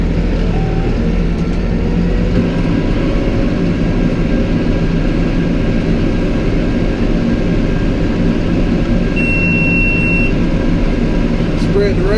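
A tractor engine runs at working revs to drive a big Kubota rake for raking rye, a loud, steady, heavy drone that holds without break from start to finish.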